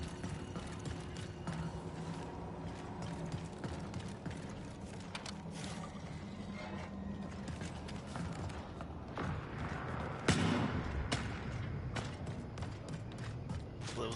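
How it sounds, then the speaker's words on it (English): In the video game Marathon, boots thud out a continuous run of quick footsteps with a mechanical clatter, and a heavier thump lands near the end. "it was the sound of boots and not the sound of a gunshot"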